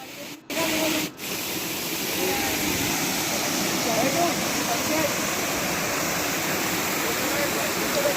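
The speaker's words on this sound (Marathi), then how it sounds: "तर मस्त छोटे छोटे धबधबे वाहत आहेत." Small waterfalls cascade along the Harishchandragad trek, making a continuous, even rush of falling water at moderate loudness for the whole stretch.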